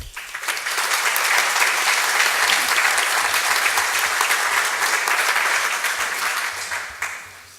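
Sustained applause from an audience at an international arbitration congress in 2014, dense steady clapping filling the hall for several seconds before tapering off.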